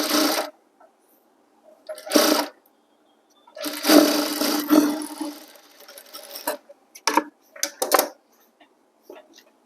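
A sewing machine stitches school uniform trousers in several short bursts, with one longer run in the middle, each burst loud and close and separated by pauses. No one speaks.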